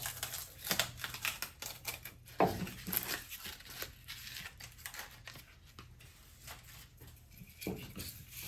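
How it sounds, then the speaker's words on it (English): Birch bark is peeled and flaked off a piece of wood, giving a quiet run of dry crackling and tearing sounds with a few sharper snaps. The sound is close and faint, with no talk. "so we're going to peel some of this birch bark off of here"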